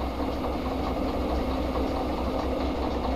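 A locomotive in the Derail Valley train simulator game rumbles steadily as it begins to move, a continuous low engine drone with faint mechanical knocking and no speech.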